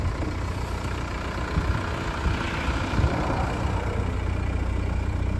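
An ALH 1.9 TDI diesel swapped from a Jetta into a 1992 Daihatsu Rocky, running cold without glow plugs, gives a steady, close, low rumbling idle throughout, with no talk over it.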